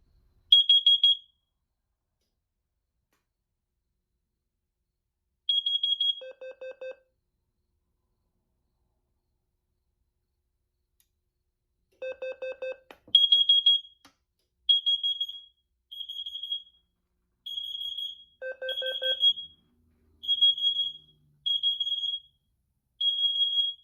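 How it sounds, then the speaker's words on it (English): A Notifier carbon monoxide detector, set off with its test button, gives loud high-pitched electronic beeps in short repeated bursts, some with a lower tone mixed in, separated by silent gaps that shorten as the pattern speeds into a steady cycle. "So there was the carbon monoxide alarm."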